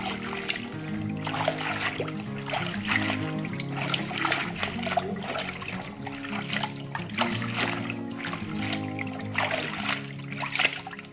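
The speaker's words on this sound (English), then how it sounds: "So I'm washing it for the second time, okay, to get rid of the sands" Green leafy vegetables are swished and rinsed in a basin of water for a second wash to loosen trapped sand, giving steady close splashing and trickling with tonal music running underneath.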